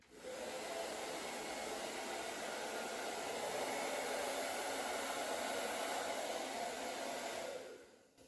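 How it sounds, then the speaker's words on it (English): Hair dryer blowing hot air to set a beard into shape, a steady loud whoosh running continuously for about seven seconds before cutting off. "I'll blow dry the heat into place, and then I'll kind of just hold it there and let it lock into place"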